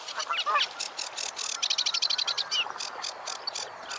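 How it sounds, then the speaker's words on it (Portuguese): Small birds singing, played back from a phone message: a quick run of bright chirps and trilling notes, some rapid and stuttering, moderately faint and with no voices. "Aí abri, passarinhos cantando."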